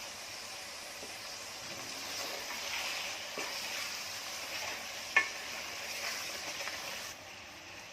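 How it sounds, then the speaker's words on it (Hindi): Prawns and potatoes frying with spices and ginger-garlic paste in a pot give a soft, continuous sizzle and hiss with scraping stirs and one sharp clink of a spoon midway, heard close and without talk. "अब एक साथ सबको भून रही हूँ"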